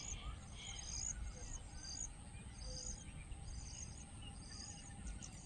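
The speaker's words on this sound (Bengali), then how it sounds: "শুধু মাঝে মাঝে শোনা যাচ্ছে পাখির কলতান, বিভিন্ন পাখির বিভিন্ন রকম ডাক।" Assorted birds give scattered chirps and calls over a steady insect hum in a quiet village evening, faint and distant with brief repeated bursts.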